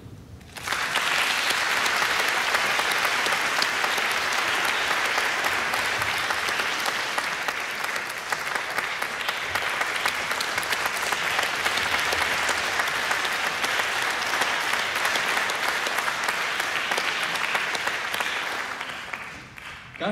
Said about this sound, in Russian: вы сейчас вот эти аплодисменты были первые в вашей жизни, первые профессиональные аплодисменты,